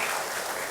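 A conference audience applauds, a steady dense wash of clapping filling the whole brief moment with no pause.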